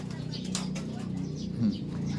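A flock of pigeons gathered around feed coos in low, soft murmurs, with a brief flutter of wings and scattered light sounds close by.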